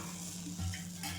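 Water dabbed onto a bhakri flatbread on a hot iron griddle, a faint, short hiss and sizzle with a soft stirring rustle, quiet and close.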